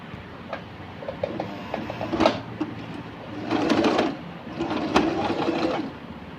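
A sewing machine runs in short stop-start bursts, its needle mechanism whirring and ticking loudly up close, with brief pauses between stitching runs and no talk.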